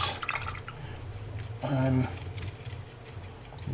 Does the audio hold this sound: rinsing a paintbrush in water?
yes